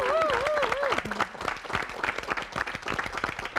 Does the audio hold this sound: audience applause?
yes